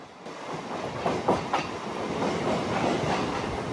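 Steady rumble and clatter of the Visakhapatnam to Parvatipuram MEMU Express running near Simhachalam, heard from inside the coach, with a couple of sharp knocks early on and no voices.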